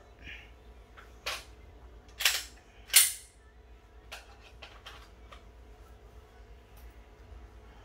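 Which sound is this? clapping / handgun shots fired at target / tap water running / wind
handgun shots fired at target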